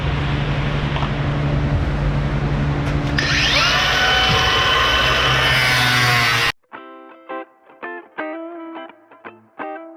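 Power tool cutting bolts off an E350 turbo diesel truck, a loud, harsh grinding whine that rises in pitch and then stops abruptly, followed by a few short, ringing metallic clanks.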